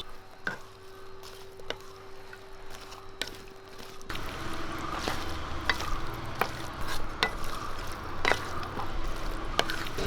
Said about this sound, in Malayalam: പിന്നെ ചിക്കനായിട്ട് ഇളക്കി കൊടുക്കും